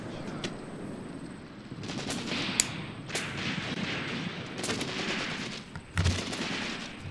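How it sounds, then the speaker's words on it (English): Scattered enemy rifle and machine-gun fire from a hill in the World War II tactics game Graviteam Tactics, with sharp cracks and short bursts over a low rumbling battlefield background, a few shots louder and closer. "Got some enemy fire from up there on the hill as well"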